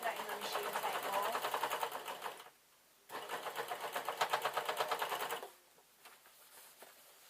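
A sewing machine stitching denim and tartan fabric while gathering it, running in two steady bursts of rapid mechanical clatter with a short pause between, close and loud.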